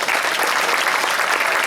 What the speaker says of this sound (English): Once again, a big round of applause for the boys and girls track teams